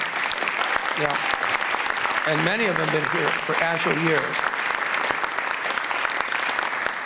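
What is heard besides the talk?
audience applause for alumni group at jazz concert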